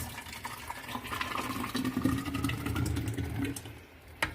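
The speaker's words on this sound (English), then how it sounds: "And then we pour it in jugs." Thick blended tomato liquid glugs and splashes as it is poured into a jug, over a low mechanical hum, ending with a small clunk.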